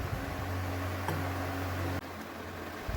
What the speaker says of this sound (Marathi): हे मिश्रण आता आपण मिक्सरला लावून घेऊ